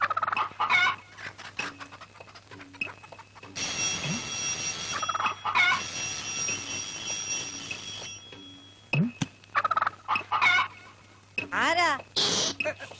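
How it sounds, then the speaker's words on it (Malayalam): A chicken clucks in bursts during a Malayalam comedy scene, the clucks alternating with people talking and a steady background hum. "ഓ, കോഴിയാണല്ലേ."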